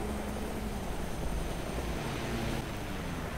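A helicopter in the video game Arma 2 flies past, a steady loud broadband rotor and engine roar that holds throughout, swelling slightly midway and easing a little near the end, with no talk over it.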